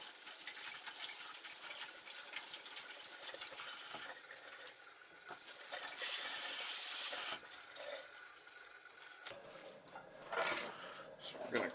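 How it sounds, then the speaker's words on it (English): A kitchen tap runs steadily as vegetables are rinsed under it, a continuous hiss of water that changes as the stream is interrupted, with a person talking over it. "Give these a quick wash."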